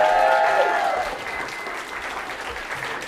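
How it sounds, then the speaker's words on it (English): A conference audience bursts into a dense, sustained round of applause that starts loud and gradually thins and fades over a few seconds, with a brief tonal sound at the start. "Joanna LaBounty, give her a round of applause."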